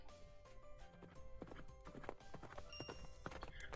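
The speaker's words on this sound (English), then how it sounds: "I think I actually hear a horse coming." A horse trots toward the listener in the Dragalia Lost video game, its steady clip-clop of hooves rising over busy background game sounds.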